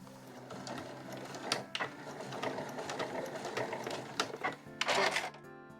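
A sewing machine runs a fast, even line of stitching along the edge of a small curved fabric pouch made from Marimekko cloth, with rattling mechanical clicks and a few louder knocks, fairly quiet and close.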